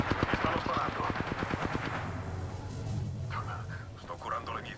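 Close, rapid automatic gunfire crackles in the shooter game Apex Legends as a steady rattling burst over the first couple of seconds, then fades under a speaking voice.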